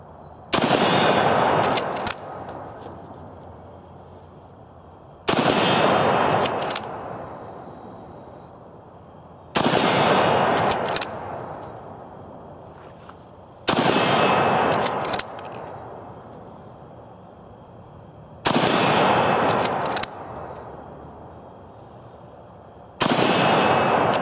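Six loud gunshots from a six-round gun loaded through a loading gate, fired one at a time at roughly four-second intervals, each a sharp blast with a long ringing decay between shots.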